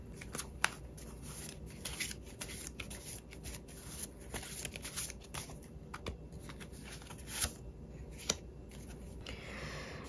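Tarot cards are shuffled and handled close by, giving soft riffling and brisk papery flicks with a few sharp taps and clicks, and nobody speaks.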